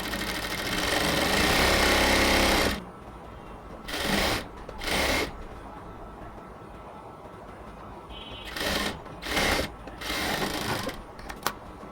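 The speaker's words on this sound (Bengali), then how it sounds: "এই দিকের অংশটাকে ডাবল সেলাই দিয়ে সেলাই করে নেব।" A sewing machine double-stitches the seam of a salwar pant, running in a loud continuous burst for a few seconds, then in several short separate runs with quiet gaps between them.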